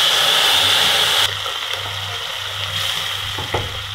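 Spinach gravy poured into a pan of fried spices for palak sabzi, giving a loud, steady frying sizzle that drops abruptly in level after about a second and then continues as a softer, even sizzle with a few stirring knocks.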